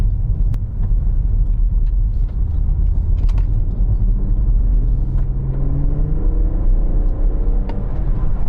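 A BMW M140i accelerates, a steady low engine rumble building into a rising tone as revs climb, heard from inside the car with no talking.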